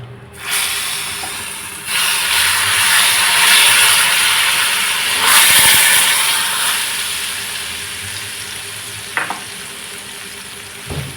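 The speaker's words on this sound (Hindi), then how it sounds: "अभी फिर हम इसको डालेंगे तड़का को इमली का चटनी के अंदर।" Loud burst of sizzling as hot tempering hits tamarind chutney, hissing strongly, easing, then flaring again, with a metallic clink near the end.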